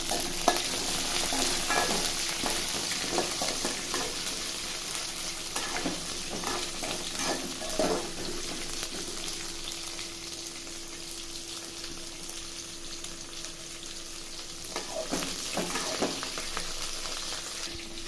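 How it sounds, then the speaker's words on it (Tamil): Tamarind curry with chillies sizzles steadily in a pan on raised heat while a spoon stirs it. Repeated scraping strokes come in short bursts over the constant close frying hiss. "இப்போ நெருப்பை லைட்டாக கொஞ்சம் கூட்டி வச்சுட்டு இதை கிளறுவோம்"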